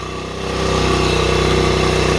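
A Honda motorcycle engine idles slightly high just after starting, a close, steady, rapid putter that rises briefly in level, then holds even.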